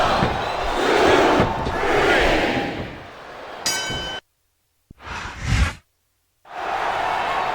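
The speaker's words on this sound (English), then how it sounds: "the crowd has come alive tonight with a chant directed at" In the wrestling game WWE SmackDown vs Raw 2007, an arena crowd swells and chants loudly for several seconds, then drops into silence broken by short bursts of crowd noise before the roar returns.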